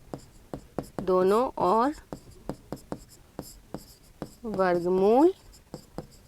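Chalk on a board during a maths lesson gives a series of sharp taps and short scratchy strokes in an irregular rhythm, close and clear, between a teacher's spoken explanations.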